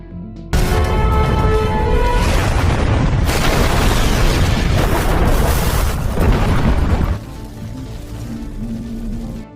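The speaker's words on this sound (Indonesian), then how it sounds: "karena markas ini akan meledak, dalam beberapa detik lagi" A hideout blows up in an action film, with a huge sudden boom that stays loud and roaring for several seconds before easing into a lower rumbling tail under music.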